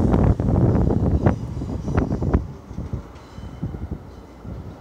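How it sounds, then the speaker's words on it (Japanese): A train rumbles past nearby at night in Australia with low roaring noise and clattering bursts, fading gradually, with some wind buffeting the microphone. "まだ電車走ってるんだけど"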